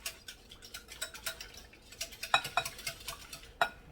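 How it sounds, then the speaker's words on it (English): A whisk clinks rapidly against a bowl as milk is beaten into eggs, light scattered taps and scrapes at close range with a few sharper metallic knocks, no talking. "Now, to these eggs, we're going to add a 1/2 cup of milk. Let's go ahead and whisk it in."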